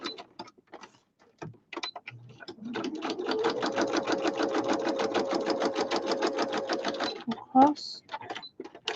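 Sewing machine stitching fabric in a steady rapid run of several seconds, its even mechanical rattle framed by brief talk before and after.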